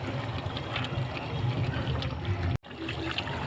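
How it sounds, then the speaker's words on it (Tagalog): Water splashes and gurgles into a simmering pot of pork menudo, a close busy pouring sound that cuts out abruptly near the end before a softer bubbling resumes. "Dagdagan pa natin ng tubig para lalo pang mapakulo at mapalambot ang ating karne."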